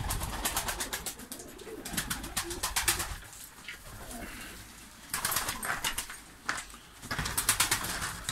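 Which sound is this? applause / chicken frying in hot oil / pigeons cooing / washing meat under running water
pigeons cooing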